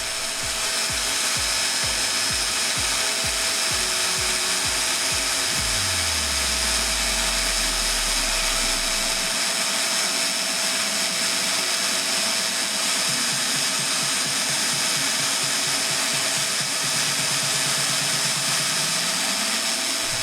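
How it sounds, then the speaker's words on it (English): A running belt sander sharpens a pencil in a workshop, giving a constant loud abrasive whir over rhythmic low thumps from the belt, with a motor tone that drops away and later rises again. "they make the best pencil sharpeners"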